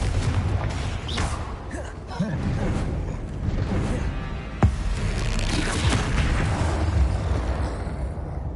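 Fiery Confringo blasting spells erupt in Hogwarts Legacy as a dense, continuous barrage of booming explosions and whooshes, with one sharp, punchy blast standing out midway.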